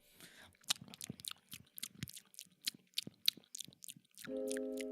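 Loud, close crunchy chewing by a streamer who has just put Vaseline on their lips, with rapid irregular bites and crisp mouth noises, ending in a steady buzzing tone.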